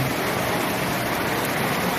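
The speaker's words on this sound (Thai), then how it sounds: "นั่งหลบฝนอยู่ใต้ภายใต้หลังคารถนะครับ" Heavy rain pours steadily at a hillside temple in Lopburi, Thailand, heard from under a vehicle roof as a dense, even hiss with no breaks.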